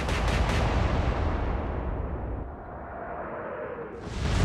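A battleship's main guns fire a salvo in the naval game Atlantic Fleet: a heavy, loud blast rolls into a long fading rumble, then a second boom swells near the end, with no voices.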